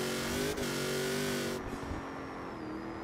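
A Mercedes G63 AMG 6x6 from the racing game Forza Horizon 4 drives hard off-road, its engine holding a loud, steady, high drone that shifts pitch partway through, close up and with no talking.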